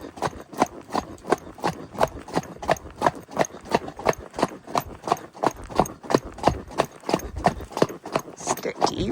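Horses trotting on a road, hooves clip-clopping in a steady, brisk rhythm of sharp, close impacts throughout.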